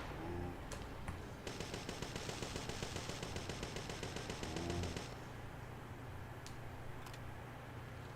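Rapid, evenly spaced pistol fire in Parasite Eve 2, a fast string of crisp shots running for several seconds under a steady low game hum, with a few isolated clicks before and after.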